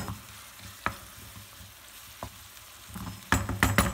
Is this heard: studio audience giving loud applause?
no